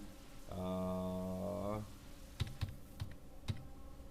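Typing on a computer keyboard while entering a product into Tally accounting software, a few sparse, close key taps in the latter half after a brief tonal sound, all quiet.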